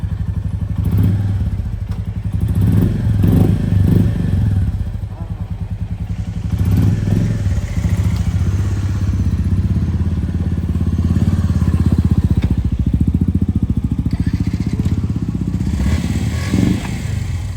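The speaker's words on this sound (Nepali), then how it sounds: "सुभाष भाइ चाहिँ अब निस्किँदैछ म चाहिँ उसको पछाडि बसेर हिँडिरहेको छु" A motorcycle engine runs steadily while carrying two riders on the route to Tilicho Lake, Nepal, its low rumble rising and falling with occasional thumps and rattles.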